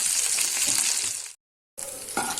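Chicken fries in a pan for restaurant-style Schezwan fried rice, a loud, close, dense sizzle that cuts out briefly to silence before resuming with a faint scrape.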